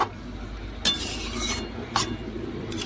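Fried dried fish is stirred into a curry, with a low bubbling simmer under two sharp scrapes and clinks of a utensil against the pot.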